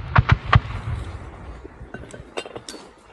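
Gunfire during a reconnaissance battalion assault near Lobkove, Zaporizhzhia Oblast: three sharp, loud reports in quick succession at the start, followed by fainter scattered bangs and crackles further off.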